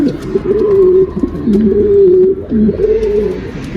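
A pair of large İsbir fleet pigeons coo loudly and close up, with low, rolling, repeated calls that run almost continuously and swell and dip in steady phrases.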